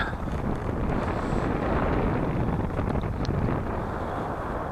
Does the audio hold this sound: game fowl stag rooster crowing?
no